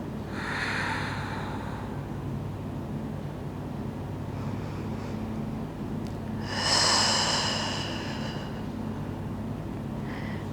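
Slow, steady breaths during a yoga pose in a vinyasa flow class, a soft airy exhale near the start and a stronger, louder breath through the nose around the middle, close to the mic with low background hum and no talking.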